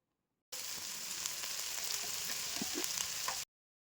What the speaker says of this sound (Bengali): ভালো করে এই 3টি মশলা মিশিয়ে নেব আবারও